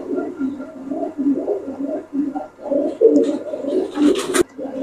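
Kasuri pigeon cooing close by, a run of low, throaty, rolling coos repeated in soft pulses, with a brief rustle or flutter near the end and no speech.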